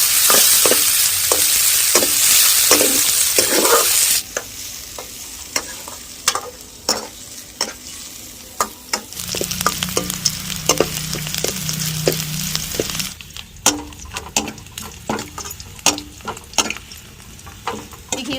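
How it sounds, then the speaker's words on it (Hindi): Onions fry in a pan with a steady sizzle while a spoon scrapes and stirs them in repeated sharp strokes, loud and close, with no talking. "तो फिर देखिए दोस्तों, इस तरह से प्याज की फ्राई कर लेते हैं"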